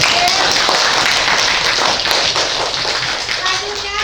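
Classroom students clap for a presenting group, a dense burst of hand clapping filling the room throughout, with children's voices faintly mixed in.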